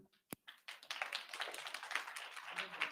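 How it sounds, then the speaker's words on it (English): Audience clapping at a talk, a single sharp clap followed by soft, scattered, fairly distant claps from a modest crowd, low in level, with no talk. "You keep clapping."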